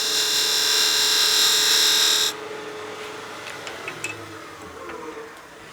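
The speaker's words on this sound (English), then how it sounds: "So I'll show you how to do it with a skew. And we're cutting this 1/8 of an inch deep." A skew chisel makes a 1/8-inch-deep cut into wood spinning on a lathe while a crank-top pepper mill is turned: a loud, steady whirring scrape for about two seconds, then it stops, leaving a quiet room with a few faint ticks.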